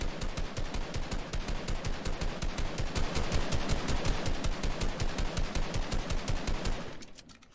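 Rapid automatic gunfire in a video game, a long, fast, evenly spaced burst of loud shots that runs for several seconds and then stops abruptly, with no voices.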